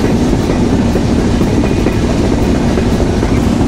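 Padma Express intercity train on the Sirajganj to Dhaka route in Bangladesh, running with a loud, continuous rolling rumble and faint rhythmic clickety-clack heard from inside the carriage.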